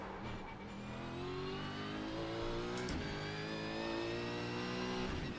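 A V8 Supercar engine at Bathurst in the iRacing sim, a steady loud drone held in one gear with a slowly rising pitch, close and continuous with no talk.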